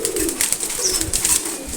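Pigeons coo steadily in a loud, close chorus, with overlapping low throaty calls and bursts of brighter chirping and fluttery noise from the flock, with no talking.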